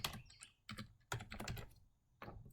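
Fingers type on a computer keyboard in short clusters of quiet, close clicks separated by brief pauses, with no talking.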